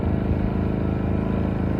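Gasoline inverter generator running steadily, its exhaust giving a loud, low, even putter with a fast regular pulse that holds without change.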